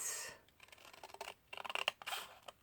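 Scissors snip through cardboard for a handmade tag craft, a quiet burst of close, crisp cuts with short pauses between strokes.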